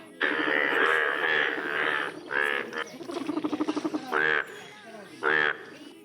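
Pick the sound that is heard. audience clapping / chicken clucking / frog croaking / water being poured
frog croaking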